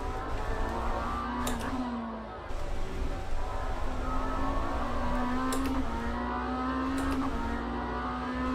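Race car engines drone in the Automobilista 2 sim racing game, a steady mid-level hum with gear shifts and rising revs, the player's BMW chasing a McLaren through continuous engine noise.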